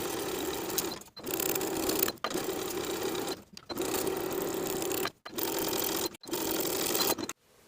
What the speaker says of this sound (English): Then we'll sew that pressed up hem in place along the inner bottom fold with an 1/8 inch seam allowance.